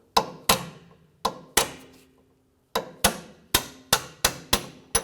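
A small punch struck with a hammer to drive a front upper control arm bolt out of a 2004-2008 Acura TL: about a dozen sharp metallic blows, close and loud, with a short pause in the middle and then a quicker run.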